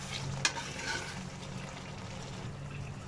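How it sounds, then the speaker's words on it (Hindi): Spices frying with yogurt in a pan for dhaba-style Afghani chicken karahi give a continuous close sizzle and bubbling, with a sharp stirring scrape near the start. "अब इन सारे मसालों को मैं दही के साथ 3 मिनट तक अच्छी तरह भून लेती हूँ।"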